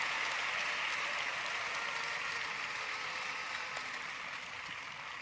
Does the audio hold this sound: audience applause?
yes